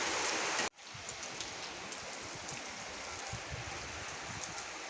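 Heavy rain pours steadily onto a rooftop, a dense, even hiss of drops that stays loud and constant throughout, with no voices.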